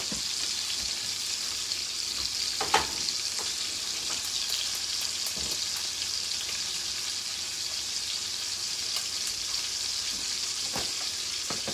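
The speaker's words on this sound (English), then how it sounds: "You do not want to stir your broccoli a whole lot, otherwise it will crumble up, turn into mush" Broccoli frying and being stirred in a pan, a steady bright sizzle running throughout with occasional soft scrapes and clicks of the utensil, close and unbroken with no talking.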